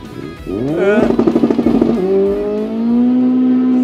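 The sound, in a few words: drift car engine revving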